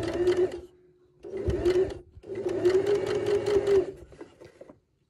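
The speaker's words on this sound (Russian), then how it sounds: "начинаем шить" A sewing machine stitches a Moscow seam in three bursts of rapid mechanical whirring, near and loud, separated by short pauses before it falls silent.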